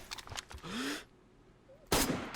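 Sharp bursts of gunfire in the video game DayZ, one rapid volley at the start and another loud burst near the end, separated by a quieter stretch with faint sounds.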